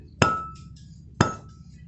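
Two sharp metallic hammer strikes about a second apart on a front brake part of a Toyota Avanza, close and ringing briefly, with quiet background hum between them.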